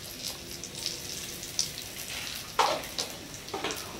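Chili paste and crispy pork cracklings stir-fried in a pan, a soft, fairly quiet sizzle broken by a few louder spatula scrapes and clinks, with no voice over it.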